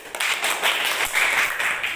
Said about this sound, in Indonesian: Beri tepuk tangan untuk kelompok Yasir.